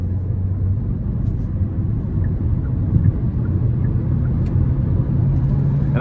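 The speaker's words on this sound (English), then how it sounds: "So again, we'll give it some throttle here. Put it in the sport mode too." A 2024 Hyundai Kona Limited AWD with its 1.6 turbo four-cylinder accelerates in sport mode, giving a steady, loud low engine drone and road rumble inside the cabin with no pauses.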